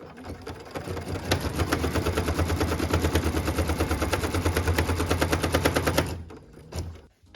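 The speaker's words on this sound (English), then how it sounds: "What we're stitching now is the tack down line for piece number 6." A sewing machine runs steadily for about six seconds, stitching a tack-down line on a quilt block, its needle chattering in a fast, even rhythm before it stops.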